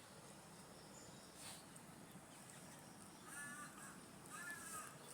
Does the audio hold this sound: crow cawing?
yes